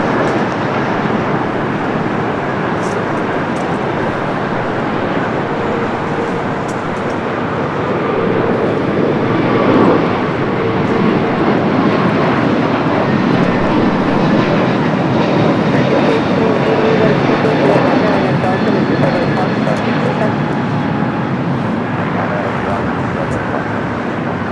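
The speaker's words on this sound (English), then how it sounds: "Japan Airlines Flight 16, coming up from Tokyo Haneda, A350-1000" A Japan Airlines Airbus A350-1000 arriving from Tokyo Haneda at Los Angeles International gives a continuous, fairly loud jet rumble that builds gently toward the middle and stays steady to the end, with talking on top.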